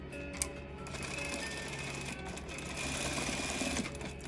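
A sewing machine stitches the border of a seat-bench cushion, running steadily as a continuous whirring hum with rapid needle ticks and a brief pause partway through.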